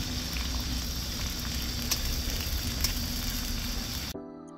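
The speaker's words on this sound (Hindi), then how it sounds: "डालते हैं इस पे प्याज। तो सुनहरा होते तक अभी भूनेंगे।" Onions fry in a pan until golden, with a dense, steady sizzle and crackle up close, a few sharper pops, and an abrupt cut to near silence at the end.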